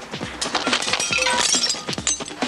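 Slingshot shots shattering breakable targets during a team shooting contest on a reality survival show, with several sharp breaking and clinking impacts in quick succession over a busy, loud background.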